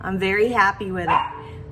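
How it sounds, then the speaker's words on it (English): A dog shut in a room barks and yips repeatedly, upset at being locked away, heard clearly while a person keeps talking over it. "You could hear my dog barking because he's upset because I locked him in a room"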